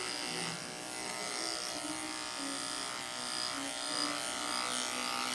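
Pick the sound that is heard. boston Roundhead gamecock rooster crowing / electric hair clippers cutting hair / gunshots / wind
electric hair clippers cutting hair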